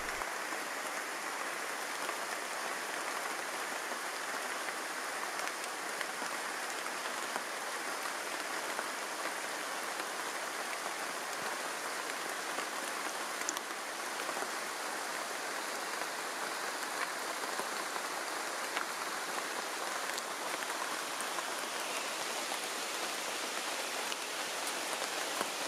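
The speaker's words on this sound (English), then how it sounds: "it started heavily raining here on my last day" Heavy tropical forest rain pours in a continuous dense hiss of drops striking leaves and ground, steady and close throughout with no voices.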